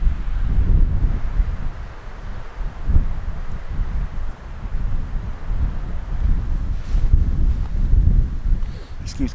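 Wind buffets the microphone on a windy Nova Scotia beach, a steady loud low rumble with gusty swells throughout, while faint voices speak underneath.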